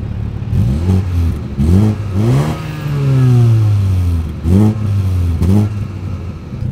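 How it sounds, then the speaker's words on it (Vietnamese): Short, punchy revs from a MINI Cooper S five-door's twin exhaust rise and fall several times, including one longer held rev, loud and close with no voices. "Quý vị và các bạn có thấy thích thú với cả tiếng ống xả của chiếc Cooper S này không ạ?"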